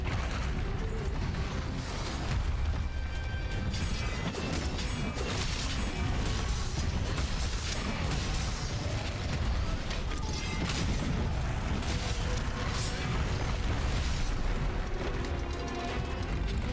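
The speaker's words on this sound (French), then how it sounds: "Hop là, petite explosion au passage" Explosions in Monster Hunter: World burst amid a constant dense wash of battle noise, with crashes and booms landing throughout and someone talking faintly underneath.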